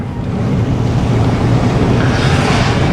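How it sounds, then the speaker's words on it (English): Rough ocean waves churn off a wharf in Cape Breton, Nova Scotia, after Hurricane Fiona, a loud, continuous wash of surf mixed with heavy wind buffeting the microphone throughout. "see how bad the waves are."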